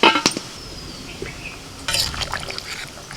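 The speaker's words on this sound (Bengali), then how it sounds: "মশলার সাথে আলুটাকে মিনিট দুয়েক নাড়াচাড়া করে নিয়ে জল দিয়ে দিচ্ছি" Water poured into a pan of potatoes cooking with spices, a short splashing pour with a clink of utensils against the pan, close by after a brief quiet moment.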